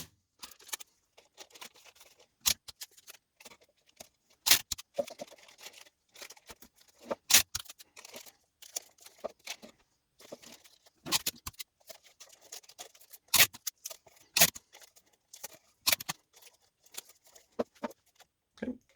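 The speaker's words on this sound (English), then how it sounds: "cut out enough to cover. I'm going to tape that down around the sides." Material being cut and taped down to make a pinhole camera: scattered sharp clicks, snips and rustles in irregular bursts, close but fairly quiet, with no talking.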